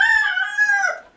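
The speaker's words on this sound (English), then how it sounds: "Rooster." A homestead rooster gives a single loud, close crow: a bright, drawn-out call that drops in pitch at the end and trails off.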